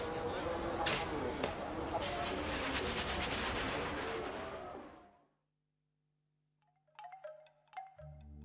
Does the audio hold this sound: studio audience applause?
no